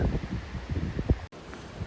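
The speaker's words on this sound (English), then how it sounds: "Very pleasant, gusting wind" Gusting wind in a forest along a hiking trail, rustling through leaves in bursts with buffeting on the microphone and a brief cut near the middle.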